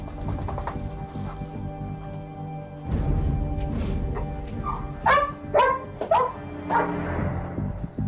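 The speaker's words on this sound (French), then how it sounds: "Casper, un chien dressé pour la recherche de stupéfiants, inspecte les lieux." A gendarmerie drug-detection dog searching a home, letting out a short run of sharp barks in the middle of the clip over steady room noise, with rustling and clattering around it.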